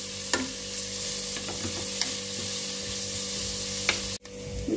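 Onions frying in a pan for an Algerian osbana dish, a steady close sizzle with occasional spoon scrapes and stirs, no voices, ending in a brief cut.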